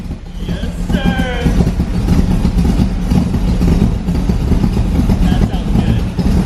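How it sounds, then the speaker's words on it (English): AC Cobra idling with a straight-pipe exhaust: a loud, deep, throaty rumble that stays steady and close throughout, with brief voices heard over the engine. "It's not obnoxious at idle. It's throaty."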